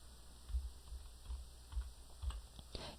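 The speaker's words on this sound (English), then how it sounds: "simply type the word mouse." Quick taps on a computer keyboard, four or five soft keystrokes in an uneven rhythm, close and quiet with no voices.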